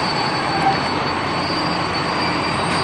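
The last scheduled train arriving at Kudowa-Zdrój station in Poland, a continuous rumble with a high steady wheel squeal running throughout, close and even in loudness.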